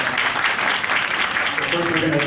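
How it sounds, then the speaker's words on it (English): Audience at a Jamaica Stock Exchange public forum on cryptocurrency applauds, a continuous close clatter of many hands clapping at a steady level, with a voice faintly beneath it. "give them a round of applause for joining us."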